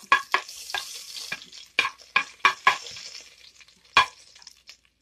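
Garlic frying in a hot pan while Jamaican brown stew chicken is cooked, heard as close, intermittent sizzles and scraping stirs that come in short bursts with quieter gaps between them.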